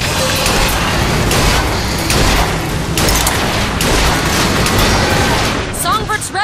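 Rocket explosions and gunfire in the video game BioShock Infinite battle against a zeppelin, dense repeated booms and blasts in a loud, chaotic barrage, with shouting voices near the end.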